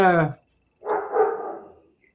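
One burst of a dog's bark, muffled and rough, follows a voice at the start; it is fairly loud and near, heard during a casual talk show.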